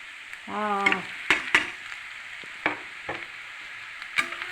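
Chillies, grated coconut, cumin, garlic and curry leaves for a siru keerai (spinach) poriyal fry in oil with a faint, quiet sizzle. A brief tonal squeal comes near the start, and scattered sharp clicks and taps follow.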